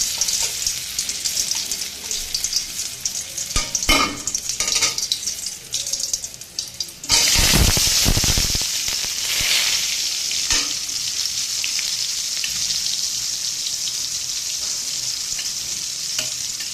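Steamed round slices of taro dropped into hot oil in a wok already tempered with black cumin, bursting into loud, steady close sizzling frying with stirring clatter, continuing alone without talk.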